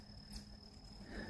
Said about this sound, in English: hear the sounds of the crickets and of the peeping frogs and maybe even some nocturnal birds.